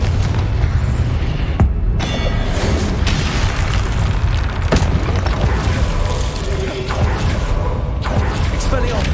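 Fiery Confringo blast spell from a wizarding video game on PC, loud booming explosions and mechanical crashes rolling continuously with dense, rumbling low-end impact throughout.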